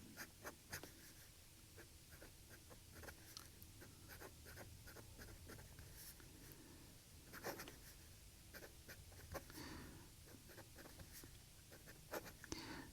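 A Hongdian C1 fountain pen scratches across paper in short, quiet strokes close up. The soft scribbling comes in irregular bursts with brief pauses between words.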